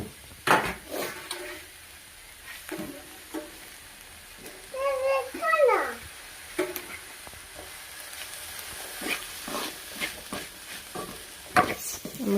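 Tomatoes being stirred into a pan of frying beef roast masala: scattered scrapes and clinks of a spoon against the pan over a faint, low sizzle, with quiet gaps between strokes.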